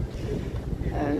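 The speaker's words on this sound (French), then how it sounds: "Il dit que le moteur fait un peu trop de bruit." The engine of a sailboat runs noisily, giving a low, uneven rumble mixed with rushing wind buffeting the microphone, close and fairly loud for the whole short stretch.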